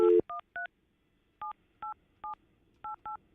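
A telephone number is punched in on a keypad: after a short burst of noise, eight crisp touch-tone beeps come in quick uneven groups, clear and close with silence between them.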